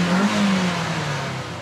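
A Ford ST170 engine fitted with bike carbs revs hard in one sustained, loud burst, its pitch rising and then easing slightly, heard close up from the front of the car.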